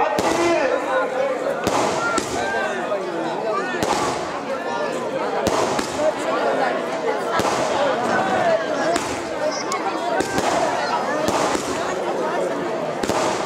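Strings of firecrackers crackling at an outdoor village drama performance in Sivagangai, Tamil Nadu, loud sharp bursts repeating throughout, with people talking and shouting over the pops.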